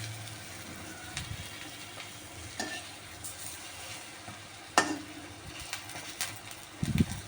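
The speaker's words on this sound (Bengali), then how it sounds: "আর 1 রাউন্ড আমার বড়া ভাজা চলছে" Bora fritters fry in hot oil with a steady low sizzle and bubbling throughout, broken by occasional stirring clinks and one sharper scrape near the middle, with no talking.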